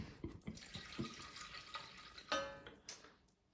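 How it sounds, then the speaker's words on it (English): Water is splashed from a cup into a pot of cooking chicken, with several short splashes and a louder pour, then trickling and clinks close by, all quiet overall. "So we'll go ahead and splash in maybe about half this cup or so."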